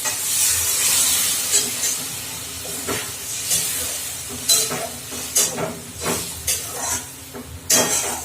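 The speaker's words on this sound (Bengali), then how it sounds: "এই যে একটু জল আমি দিয়ে দিই" Water is poured into a pan of frying prawn, paneer and potato curry, bringing a steady hiss and sizzle with scattered scraping and clinking as it is stirred close by.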